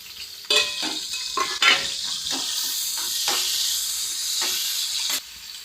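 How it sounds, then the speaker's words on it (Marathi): Chopped onion hitting hot oil in a pan, a loud burst of sizzling and hissing that keeps crackling steadily, with a few stirring scrapes over the frying. "आपलं तेल गरम झालेलं आहे, आपण त्याच्यामध्ये कांदा टाकूया"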